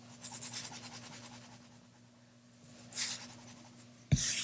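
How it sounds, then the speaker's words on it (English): Pencil drawing being rubbed out with an eraser, giving soft repeated scrubbing strokes in short bursts with quiet pauses, close and faint over a low steady hum. "So take your time as you erase."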